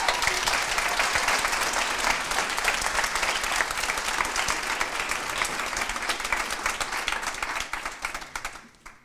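Loud, dense audience applause at a regional Ma thèse en 180 secondes final, sustained clapping from a large crowd that holds steady for several seconds and then tapers off sharply at the end.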